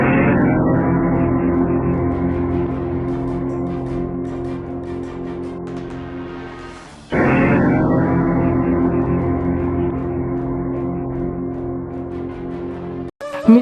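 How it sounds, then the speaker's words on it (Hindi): A deep, droning Om-like tone said to come from space hums steadily with rich layered overtones, fading out midway, then swelling back in just as loud and sustaining before cutting off, with no voices over it. "ब्रह्मांड में जो आवाज़ गूंजती है वो ओम की आवाज़ है।"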